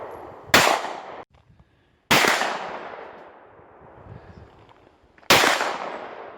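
Three loud outdoor gunshots, fired while sighting in a firearm, crack toward a steel target plate, each followed by a long, ringing decay that fades over a couple of seconds.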